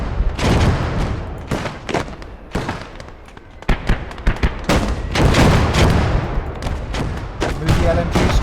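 Booming artillery and gunfire explosions in the World War II strategy game Blood Red Snow, a dense, loud barrage of repeated blasts and rumbling impacts with scattered sharper cracks throughout, no voices.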